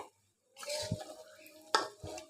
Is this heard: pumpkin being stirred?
yes